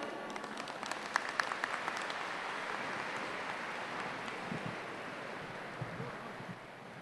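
Applause at a scholarship award ceremony, a faint, distant patter of clapping with a few sharper claps near the start, set against a windy, rumbling background.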